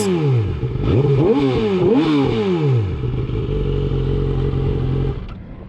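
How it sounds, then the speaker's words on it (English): A 2007 Yamaha R6 sport bike fitted with a Power Commander 5 and Graves slip-on exhausts revs loudly up and down several times close by, then settles into a steady rumbling idle. "This is 2007 Yamaha R6 with Power Commander 5 and Graves slip-ons."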